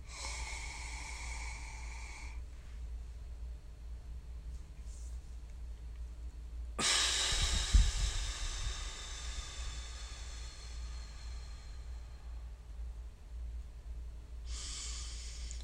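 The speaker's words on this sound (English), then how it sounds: "Right now, I exhaled for about 15 seconds." A long, slow exhale during a relaxation breathing exercise, soft and airy over a low steady background hum, with a few faint breathy bursts before and after.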